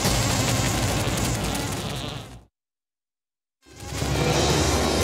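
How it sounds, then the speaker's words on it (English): Guardian wasps in an animated series drone in a loud, steady buzz that cuts out abruptly for about a second mid-way, then resumes at full strength. "Careful, these are guardian wasps, stationed to protect a hive."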